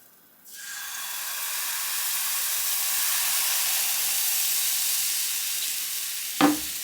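Food hits a scalding hot frying pan and breaks into a loud, steady hiss of sizzling that carries on unbroken, ending with a brief clank of cookware.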